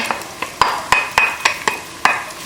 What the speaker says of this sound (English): we're gonna fry it until it becomes translucent